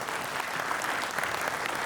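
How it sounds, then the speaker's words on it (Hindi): An audience at the annual Global Peace Summit in Mumbai breaks into a dense, steady burst of hand clapping that fills the hall at an even loudness. "मणिपुर वाले भाई के लिए जोर से तालियां बजाओ थोड़ा सा।"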